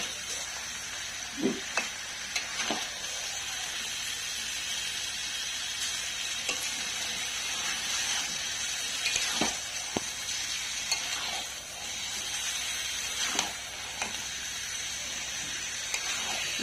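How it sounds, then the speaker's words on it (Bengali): Mutton being stir-fried in a pan with no water added, giving a steady close sizzle throughout with occasional scraping stirs and spatula knocks. "দেখো আমি এখনও কিন্তু কোনো রকম জল দিইনি, সমানে কষাচ্ছি।"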